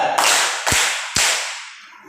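Three crisp hand claps spaced evenly about half a second apart, loud and close, each ringing briefly before the next, with the last one fading into room echo.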